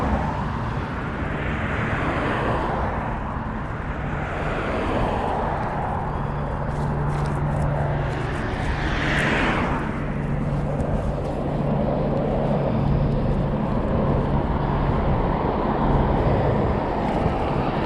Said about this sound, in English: Police helicopter up ahead and to my left.